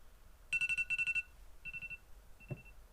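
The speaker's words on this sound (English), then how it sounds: "my alarm went off" Alarm clock beeping in a quiet room, two quick bursts of rapid electronic pulses followed by a softer trailing burst and a short final beep, fairly close and clear.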